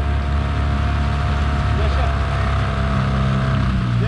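A motorized kayak accelerating on water, its small engine droning loud and steady close by, with wind and water noise throughout.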